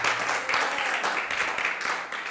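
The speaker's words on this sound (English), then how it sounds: "Let's give a bigger hand clap to God for that." Church congregation clapping hands together during a Sunday service, a steady dense patter of applause filling the room for a couple of seconds without pause.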